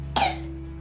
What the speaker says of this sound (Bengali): কোথা থেকে যে হলো আবার কাশিটা